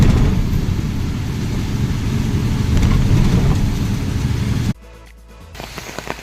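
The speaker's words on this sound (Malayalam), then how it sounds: "ഇവിടെ നല്ല മഴയാണ്, തമിഴ്നാട്ടിൽ നല്ല മഴയാണ്" Heavy rain on a road in Tamil Nadu heard from inside a moving vehicle, a loud dense steady roar of rain and tyre noise that cuts off abruptly near the end, leaving quieter scattered drips and knocks.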